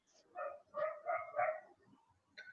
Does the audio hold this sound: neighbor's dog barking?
yes